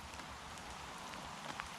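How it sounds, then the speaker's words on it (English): Steady rain falls on a lake during a June carp fishing session, a continuous soft hiss of drops with no voices. "I know the rain's good."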